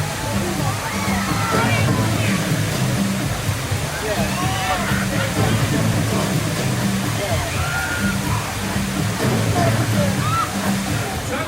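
Rushing, sloshing water from the Rapids river rafting ride at Alton Towers, a steady broadband roar of churning and splashing throughout, with voices talking over it.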